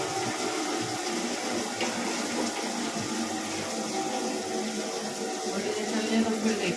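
Steady gushing water from a tap, a continuous full splashing flow close by, with a voice faintly mixed underneath.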